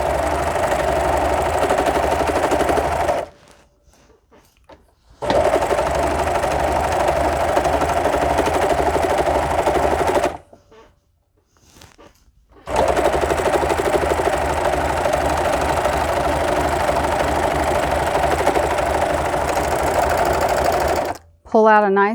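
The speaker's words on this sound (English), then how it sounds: "put down the foot, just like that, and start sewing again" A sewing machine stitches pillowcase fabric, humming loudly and steadily in long continuous runs, broken by two short quiet pauses when the stitching stops.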